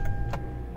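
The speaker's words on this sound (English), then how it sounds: "Let's see if the car starts." A 2011-2016 Hyundai Elantra starts up after a battery replacement, with a brief starter whir and clicks giving way to a low, steady idle rumble, close and alone.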